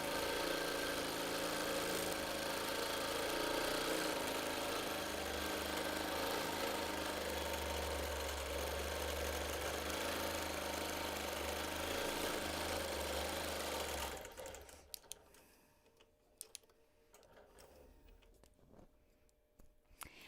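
A longarm quilting machine stitches a client's quilt with a loud, steady mechanical whir and hum. It runs continuously for about fourteen seconds, then stops, leaving a quiet room with a few faint clicks.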